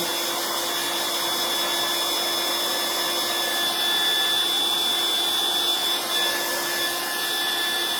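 A handheld drying tool blows air steadily over a paper journal page, a constant close whir with a high tonal whine, alone and without talk.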